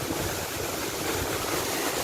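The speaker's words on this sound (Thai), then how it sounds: "นี่ก็เป็นอีกขั้นหนึ่งของน้ำตก" Khlong Lan waterfall flowing, a dense, steady roar of rushing water filling the whole moment with no breaks, close and fairly loud.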